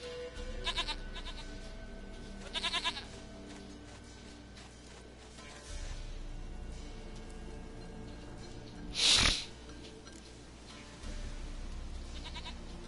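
Goat bleating in The Witcher 3, a few short wavering bleats early on over quiet game ambience, followed by a brief louder burst of noise later.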